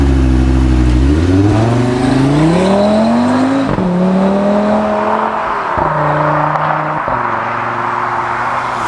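An Audi RS Q3 SUV from Audi Sport revving and accelerating hard, its engine note climbing loudly through several gears with brief dips at each shift, close and dominant.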